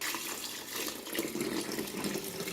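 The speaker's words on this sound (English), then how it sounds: "Fill the coffee machine up with water." A steady stream of water pours into a coffee machine's reservoir, a faint, continuous splashing trickle with no talk over it.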